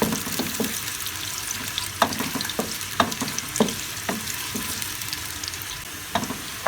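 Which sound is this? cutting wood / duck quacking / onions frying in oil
onions frying in oil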